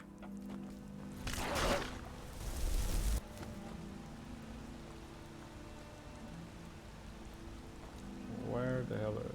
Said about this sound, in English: Even the rain in video games annoys me.